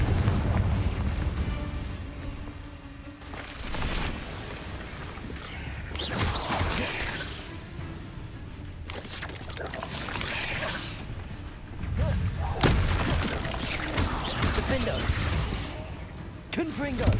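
Confringo and Bombarda blasting spells exploding in the game Hogwarts Legacy, a string of loud booming bursts and crashing impacts, several in quick succession, with a voice calling out over them.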